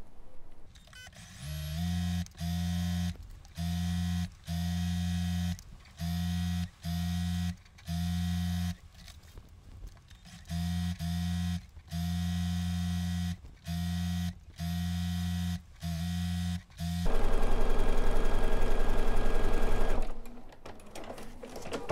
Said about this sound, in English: So we're just gonna start stitching.